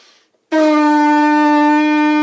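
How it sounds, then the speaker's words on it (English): A steady, loud trumpet lip buzz starts after a brief near-silence and holds a single reedy, brassy pitch, nearly two seconds long, with no talking. "And then we make a spitty, farty sound like this."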